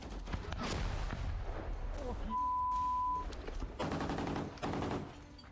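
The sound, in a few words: gunshot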